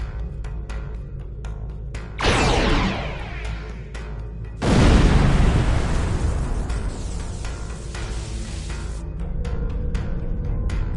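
A nanite torpedo fires and detonates in a Star Trek Online space battle, two loud booming blasts, the second heavier and rolling on into a long rumbling wash under steady background drone.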